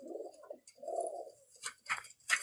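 A pigeon at a loft keeping Teddy pigeons coos close by in two low, drawn-out phrases, followed by a few short, sharp scratchy sounds.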